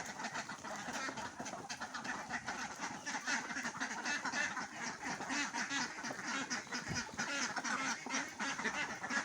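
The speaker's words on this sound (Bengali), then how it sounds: "তো দেখেন হাঁসগুলো সব ছাড়া গেলো" A flock of farm ducks quacks continuously after being let out, many birds calling over each other in a busy, fairly faint chorus with no talking.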